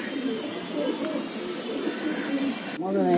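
Pigeons coo softly on a rooftop in repeated low burbling calls, with someone talking over them near the end.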